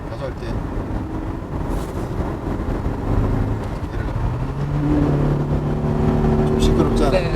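A BAIC Kenbo 600 engine is accelerating from inside the cabin, a loud, steady drone that builds in pitch over several seconds with wind roar, and a voice talks over it.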